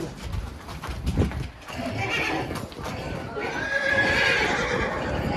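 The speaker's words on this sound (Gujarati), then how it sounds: "હા જો તમને ઘોડાનો જ અવાજ આવતો હોય." A mare whinnies loudly up close while hooves clop and shuffle; people talk in the background over the stamping.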